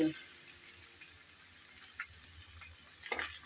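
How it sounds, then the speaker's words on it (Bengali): Cut mango pieces are added to hot oil with garlic for a pickle, and a steady sizzling hiss of frying follows, close and continuous. "এখন দিয়ে দেব কেটে রাখা আমগুলো"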